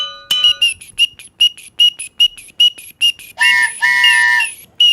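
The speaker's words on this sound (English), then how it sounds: "You got to do cowbell and train whistle." A handheld train whistle blown in a rapid series of short shrill toots, followed by a longer multi-tone blast, loud and close.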